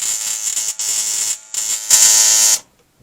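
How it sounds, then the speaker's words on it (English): A Surefire portable ignition tester gives a loud, harsh electric buzz when switched on, pulsing in several uneven bursts with brief dropouts before cutting off into silence. "this is the Surefire portable ignition"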